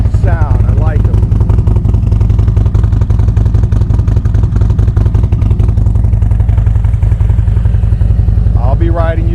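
A Harley-Davidson Street Glide Special with Reinhardt slip-on exhausts idles in neutral, its loud, close, steady low rumble pulsing throughout, with a brief voice near the start and end.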